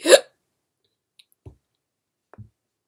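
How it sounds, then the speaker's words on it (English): A single sharp hiccup opens, close and loud, followed by near silence with a few faint clicks and soft mouth noises. "I just burped and then I hiccuped."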